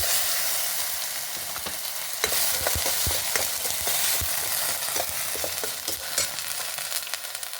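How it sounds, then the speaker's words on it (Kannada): Garlic and onion paste frying in oil for a green peas kurma, stirred with a spoon; a steady close sizzle runs throughout, broken by irregular scraping clicks and taps of the utensil against the pan. "ಒಂಚೂರು ಹೀಗೆ ಫ್ರೈ ಮಾಡ್ಕೊಂಬ. ಚೂರು ಆಯಿಲ್ ಬಿಡುವಷ್ಟು ಒಂಚೂರು ರೋಸ್ಟ್ ಮಾಡ್ಕೊಂಬ."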